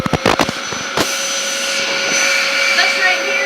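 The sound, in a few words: Dyson DC07 vacuum cleaner running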